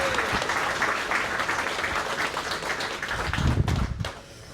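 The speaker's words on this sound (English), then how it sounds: "I think Penny deserves a round of applause." A room of guests at a women's business networking lunch gives a round of applause, brisk and fairly loud, building slightly near the end before quickly fading out.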